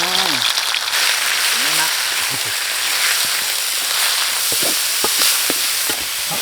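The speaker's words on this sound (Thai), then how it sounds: "เอาน้ำมันร้อนแล้วพ่อใส่กระเทียมลงไปครับผม" Garlic and pork sizzle loudly in hot oil in a pan for egg fried rice, a dense continuous hiss with occasional clinks of a utensil, while someone talks over it.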